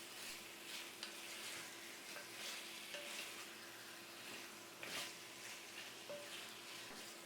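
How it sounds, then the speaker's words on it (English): Pork ribs fry slowly in a pan over lowered heat, giving a soft, steady sizzle with occasional light clicks and stirring sounds, faint and close with no one speaking. "Now, we'll need to slightly lower the heat and fry them slowly for about 30"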